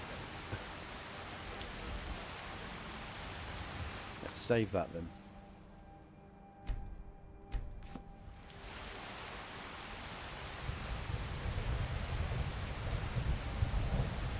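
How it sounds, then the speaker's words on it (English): Steady rain falls in Skyrim gameplay, a broad hiss that drops away briefly and then returns heavier. Thunder-like rumbles and someone talking are heard over it. "I wish it would stop raining."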